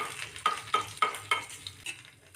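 Tempering spices for a vegetable moong dal hiss and crackle in a hot pan, a few sharp sizzling bursts with brief clinks, close and fading toward the end, no speech.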